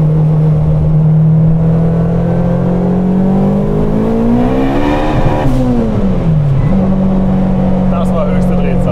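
An 800 hp turbocharged front-wheel-drive Honda Integra revs hard under acceleration, its engine tone climbing in pitch, peaking, then dropping on a shift before steadying into a loud, close drone.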